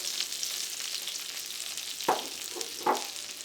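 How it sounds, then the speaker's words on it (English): Cumin seeds crackle in melted butter in a pan: an even, close sizzle throughout, broken by two sharp metallic clinks of a spoon against the pan. "And let the butter melt. Add teaspoon of cumin seeds,"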